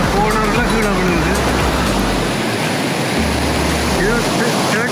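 Waterfall on the river below the lakes at Joffre Lakes, British Columbia, a loud, continuous rushing roar of falling water that stays close and steady throughout.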